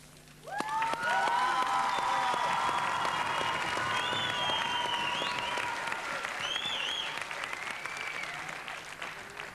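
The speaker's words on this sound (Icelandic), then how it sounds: "Ég ætla að standa upp og klappa fyrir þér." A studio audience at an Idol singing competition applauding loudly and continuously for several seconds, with cheers and whoops over the clapping.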